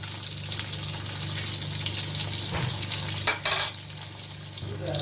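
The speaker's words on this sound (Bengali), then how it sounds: "এখন এটাকে আমি একটু উল্টিয়ে দিচ্ছি, একটু কড়াই ভাজবো কিন্তু আমি" Capsicum frying in a kadai gives a steady, fairly loud sizzle with soft stirring scrapes, a brief louder burst midway, no talking.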